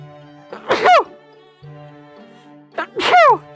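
Two loud, close sneezes about two seconds apart, each a sharp sudden burst with a quick intake before it, over a quiet, steady hum in the background.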